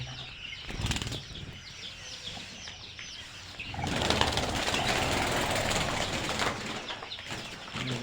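Quail in a coop where eggs are being laid, with a burst of wing flapping: faint chirps and rustling early on, then a loud, dense flutter of wings that holds to the end.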